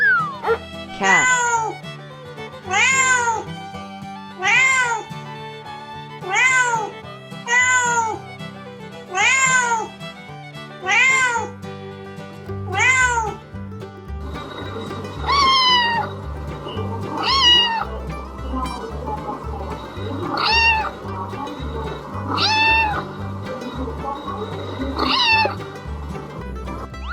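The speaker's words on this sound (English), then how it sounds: "cat" A cat meows over and over, drawn-out rising and falling calls spaced a couple of seconds apart, clear and close above a musical backing.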